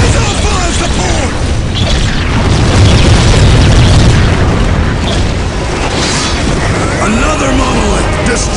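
A monolith in the Warhammer 40K strategy game is blown up, loud sustained booming explosions and crashing debris filling the battlefield, continuous and dense throughout.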